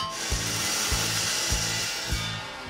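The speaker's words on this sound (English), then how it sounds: "First step is to drill a couple holes." A power drill bores holes for a swing-away spare tire carrier on a Chevrolet Suburban, a steady close grinding whine broken by a regular thump about every half second, with no talking.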